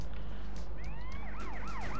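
A police siren in the video game GTA San Andreas wails in rising and falling sweeps, quickly turning into a fast yelping pattern, loud and close over steady engine and game noise.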